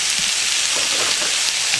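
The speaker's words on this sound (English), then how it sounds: "You heard that sizzle going, right? That's what you want to hear." Steady, crackling sizzle of onions sautéing on a Blackstone griddle, continuous and close with no talking.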